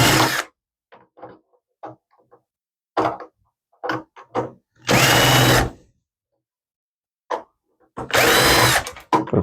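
Electric screwdriver whirring in short bursts as screws come out of a Dell Vostro 230 Slim desktop case, two long loud spins among several brief ones with quiet gaps between.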